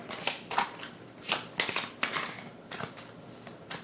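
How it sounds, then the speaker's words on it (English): Playing cards shuffled during a tabletop session of The 7th Continent board game, a series of quick riffling bursts and soft flicks repeating across several seconds, close and fairly quiet with no talk. "So let's shuffle them."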